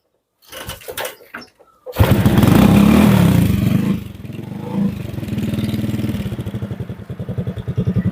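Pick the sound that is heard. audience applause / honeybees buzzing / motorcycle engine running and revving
motorcycle engine running and revving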